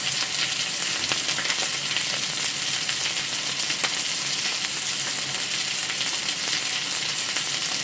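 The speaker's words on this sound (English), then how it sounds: "So here's a video recording of some cooking I was doing with ASMR on." Food fries in a pan with a dense, continuous sizzle and scattered crackles and pops, loud and close, captured on an LG V60 ThinQ phone with its ASMR recording mode switched on.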